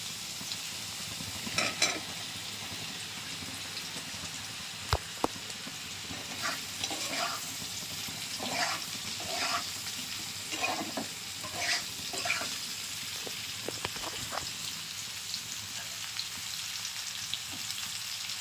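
Ridge gourd sizzles and crackles steadily in a hot pan, with occasional scraping and stirring clatter of a spatula throughout.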